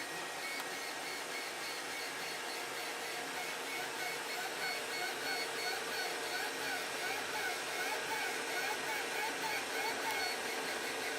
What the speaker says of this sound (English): I think it is definitely quieter than my old printer.